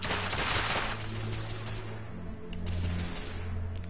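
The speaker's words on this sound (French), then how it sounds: "Donc R2 pour tirer avec une arme." Gunfire from the PS4 video game The Order 1886 comes as a dense, steady fusillade of shots under a low droning game soundtrack.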